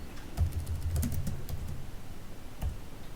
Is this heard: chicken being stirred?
no